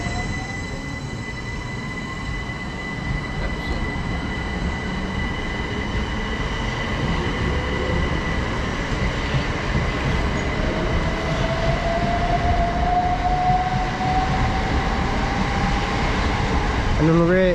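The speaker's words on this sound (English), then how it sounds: "on the rear is 377436, the 1416 Southern service to Horsham" A Southern Class 377 electric multiple unit, 377436, runs past on a Horsham service in South West London, its steady rolling roar filling the scene with rising wheel squeal and flange screeches near the end.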